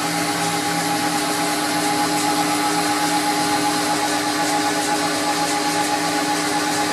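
A Boxford CNC lathe controlled by Mach 3 runs on its own, producing a steady, continuous motor whine with a constant hum and no talking.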